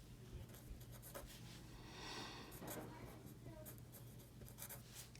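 Pen or pencil scratching steadily across paper as an answer is written out, faint and close, with a low hum behind it and no talk during the writing.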